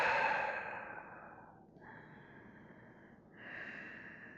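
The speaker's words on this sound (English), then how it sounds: "Couple breaths." A few slow, deep breaths come close and clear, a long airy exhale followed by softer hissing in and out breaths, alone with no talk.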